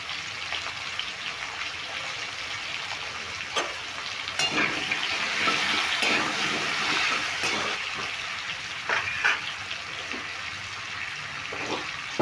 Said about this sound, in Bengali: মিডিয়াম আছে আলুগুলো লালচে করে ভেজে নেব